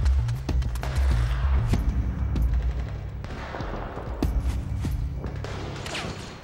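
Rapid bursts of automatic gunfire from soldiers in the Metal Gear Solid 4 battlefield, dense overlapping volleys and thuds rolling continuously at close range and high loudness, with faint shouting mixed underneath.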